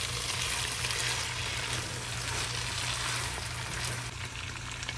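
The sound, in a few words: chicken frying and being stirred with spice masala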